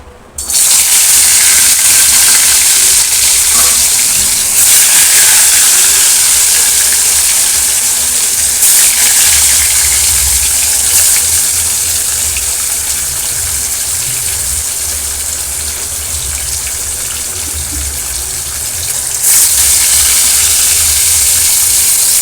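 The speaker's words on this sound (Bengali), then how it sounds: "কড়াইয়ের তেলটা গরম হয়ে গেছে আগে মাছটা দিয়ে দিই" Fish fries in hot oil in a kadai with a loud, close, continuous hissing sizzle that holds steady throughout with only slight swells, no voices over it.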